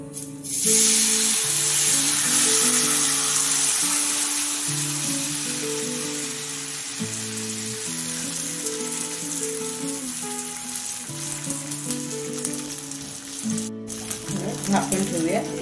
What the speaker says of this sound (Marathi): आता आपण हे मिक्स केलेलं पीठ आहे ते तव्यामध्ये टाकूया।